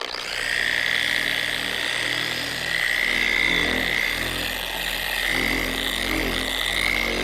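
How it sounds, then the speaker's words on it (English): A power buffer polishes a cloudy car headlight lens with compound, giving a steady, continuous motor whine with a high tonal band and a broad rough hiss throughout, close and loud with no talk. "So let's just start buffing."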